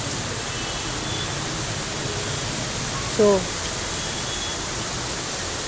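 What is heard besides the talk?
torrential rain in Junagadh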